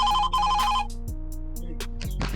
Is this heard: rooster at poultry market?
no